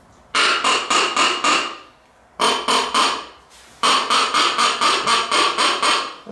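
A duck call lure blown to mimic a raven, giving loud, harsh, buzzy croaks close by: a run of five quick calls, a pause, three more, then a longer steady series of about eight.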